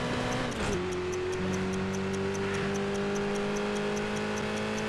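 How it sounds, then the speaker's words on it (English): Car engine humming at a steady, fairly subdued pitch in the Midnight Club Los Angeles driving game, with a faint regular ticking running alongside. "the engine sounds kind of gutless."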